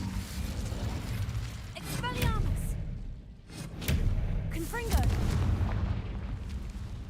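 Spell blasts in Hogwarts Legacy, a disarming Expelliarmus then an explosive Confringo, burst out as whooshing, crackling magical impacts with deep booms, two main bursts a few seconds apart over a busy game soundtrack with voices.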